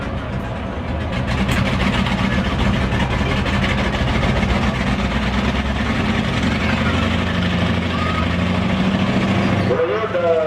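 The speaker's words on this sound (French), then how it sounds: "Et il est propulsé par un moteur Mémar de 180 chevaux, et il va à 60 km/h." Armoured Observer vehicle with a 180 hp Mémar engine driving at a military dynamic demonstration in Saumur, a steady loud engine drone running continuously under crowd noise and public-address talk throughout.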